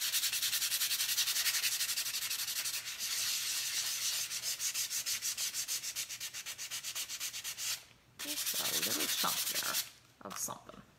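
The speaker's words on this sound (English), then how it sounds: "Just give me my sandpaper." Steady back-and-forth hand sanding with 3M sandpaper, a close, loud rhythmic scratching that runs continuously for several seconds, then pauses briefly before resuming in shorter strokes.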